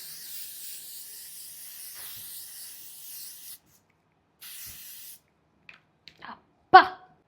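Short bursts of hiss from a face mist spray, a couple of brief puffs close to the microphone, with a stronger final spray after a longer steady hiss and a few small handling clicks.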